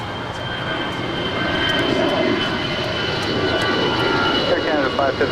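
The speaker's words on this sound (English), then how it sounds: "This is Alaska 532 departing to Portland. It's an Airbus A320." An Alaska Airlines Airbus A320 jet roars steadily during its takeoff roll at LAX, loud and sustained from nearby, with someone speaking over it.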